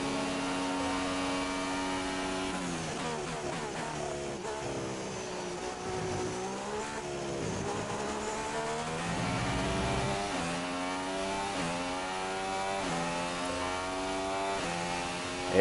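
F1 car engine from the racing game F1 2016, a steady high-pitched whine that rises and falls through repeated revs, loud and continuous with no talking.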